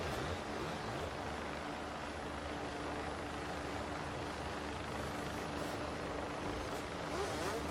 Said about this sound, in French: L'hélicoptère de la sécurité civile au-dessus de nos têtes.